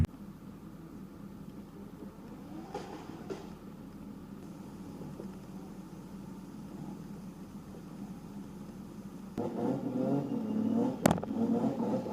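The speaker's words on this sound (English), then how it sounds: "let's go do some burnouts" A car idles and revs at a track session before burnouts, a steady engine drone rising into a louder, harsher rev near the end with a sharp burst, fairly close.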